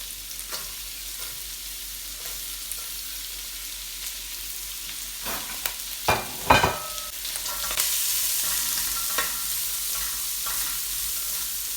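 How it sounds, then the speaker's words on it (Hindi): Carrot pieces fry in about two tablespoons of hot oil for Chinese-style vegetable rice, with a steady sizzle that swells louder in the second half as a few stirring clanks and scrapes sound close by. "ये हमने इसके अंदर तकरीबन 2 टेबल स्पून के अंदर ऑयल डाला है, और डालने के बाद जो हमारी कैरेट है ये हम इसके अंदर डालेंगे।"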